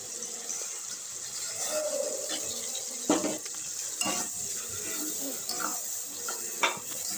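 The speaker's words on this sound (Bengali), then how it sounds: "এবার মশলাটাকে পুরো সাঁতলে নেব।" Spice paste with onion, garlic and green chili sautéing in a pan, with a steady soft sizzle and scattered clinks and scrapes of a spoon stirring against the metal, close and unhurried.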